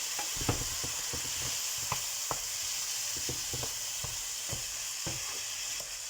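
Shrimp stir-fried noodles sizzle steadily in a hot pan, a constant close frying hiss broken by small pops and clicks throughout.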